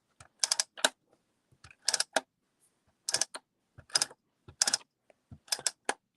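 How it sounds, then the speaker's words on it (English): A new adhesive tape runner, used while adding photos to a DIY album, clicks in six quick, close bursts of rapid ratcheting snaps separated by short quiet pauses. "this clicking noise of my new tape runner thing"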